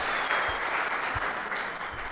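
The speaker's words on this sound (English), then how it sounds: "Round of applause for the time." An audience at a tech conference talk gives a short burst of applause, a steady wash of many hands clapping at moderate distance with no pause.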